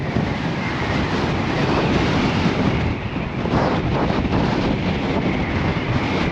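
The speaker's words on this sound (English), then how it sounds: "those are some rough waves coming in." Rough sea waves crash and churn along Blackpool promenade while strong wind buffets the microphone, a constant loud roar of surf and gusts filling the whole stretch with no talk.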